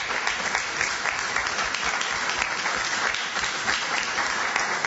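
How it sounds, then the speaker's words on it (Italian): A long, warm round of audience applause dedicated to lyricist Valerio Negrini, dense continuous clapping from a crowd that holds steady and loud from start to finish with no voices over it. "dedicare un lungo, caloroso e fantastico applauso intanto a Valerio Negrini"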